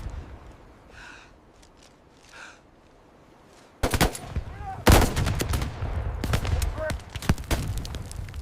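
Rifle gunfire in a 1944 Normandy D-Day battle scene, including a sniper: after a few seconds of quiet murmur, loud, sharp shots and bursts erupt at close range and keep crackling densely through the remainder.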